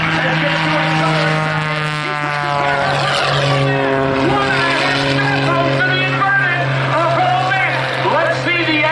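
Skip Stewart's Prometheus aerobatic plane makes a low takeoff at an air show, its engine drone holding steady and loud throughout while a commentator talks over it.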